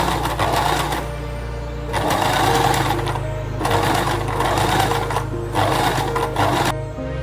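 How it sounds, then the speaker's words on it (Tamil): A sewing machine stitches the curved seam of a small fabric face mask for a child, running in steady motor-driven bursts with brief pauses between runs, close and fairly loud with no talking. "பின் பண்ணிட்டு கர்வ் லைனை நம்ம ஸ்டிச் பண்ணிக்கலாம்."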